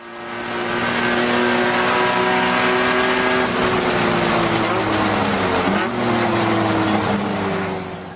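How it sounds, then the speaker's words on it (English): A race car engine roars loudly and continuously at a 24 Hours of Lemons endurance race at Gingerman. The revs hold high, then drop through crisp downshift blips near the end, with no talking. "A couple of crispy downshifts there"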